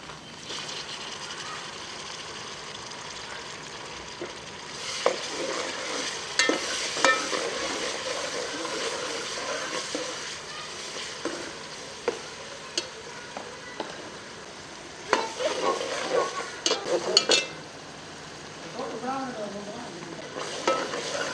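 Minced meat keema for dhaba-style aloo keema sautéing in a pan, a steady broadband sizzle with repeated scraping stirs and clinks of the spatula, close and moderately loud, with no talking.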